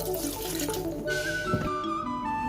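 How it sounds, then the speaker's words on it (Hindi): Water poured into a cooking pot of ingredients sitting on the stove, a steady close-up rush and splash of running water that lasts the whole stretch with no voices over it. "अब हम इसमें पानी डालेंगे।"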